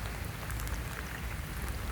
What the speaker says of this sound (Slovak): Sice prší dosť intenzívne, ale tie zrážky sú vytrvalé.